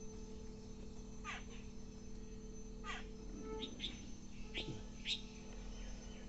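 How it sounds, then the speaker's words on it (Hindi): Small birds chirp and call in short bursts over a quiet morning outdoor scene where various birds peck at grain, with faint insect hum and steady low background noise. "It is the natural and pleasant view of today's morning, and birds are singing sweet."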